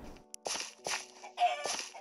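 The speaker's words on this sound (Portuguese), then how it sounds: "Tem uma galinha ali." Blocky game chicken from Minecraft on the 3DS clucks in a few short bursts, close and clear against near silence.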